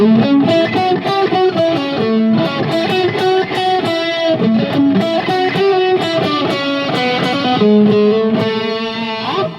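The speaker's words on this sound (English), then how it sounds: "So now I've got a delay on." A distorted electric guitar plays a steady riff, with repeating delay echoes trailing each note and filling the gaps; loud, close, and no talking.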